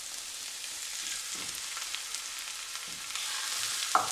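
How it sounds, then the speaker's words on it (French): Minced beef fried with green pepper and onion in oil, giving a soft continuous sizzle close by with a few faint stirring scrapes. "On va les faire revenir rapidement avec la viande hachée."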